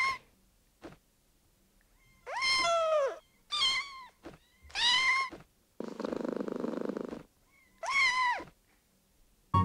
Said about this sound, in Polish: Jak miauczy!